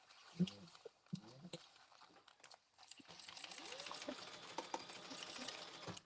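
A sewing machine top stitches a canvas hobo bag, a faint, quiet whir running in short bursts and then more steadily, with a few sharp clicks and people chatting softly nearby.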